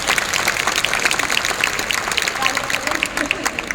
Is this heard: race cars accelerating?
no